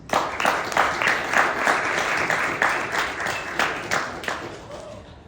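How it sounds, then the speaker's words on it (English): An audience applauds guests at a startup company event, a steady burst of many hands clapping at moderate loudness with a few sharper individual claps, tapering slightly near the end. "Please give it a big round of applause to our guests, Mr. Edward Rodney, Theo Ratcliffe, and Mr."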